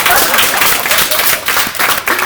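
Audience applause after a call to clap during a university student executive debate, a dense wash of clapping hands filling the room for a couple of seconds, fairly loud and steady.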